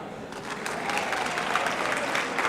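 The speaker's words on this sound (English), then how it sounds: "maybe you can clap." A banquet audience at a hall of fame induction dinner claps steadily, a dense wash of many hands filling the room at moderate loudness without a break.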